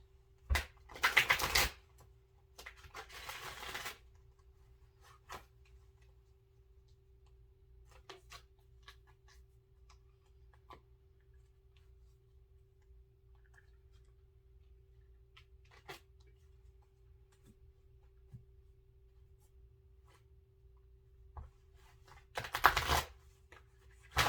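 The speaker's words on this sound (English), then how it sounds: "this deck is impossible to shuffle, so I'm going to do my best" A deck of oracle cards riffles and shuffles in a couple of short bursts at the start and again near the end, with quiet light taps in between.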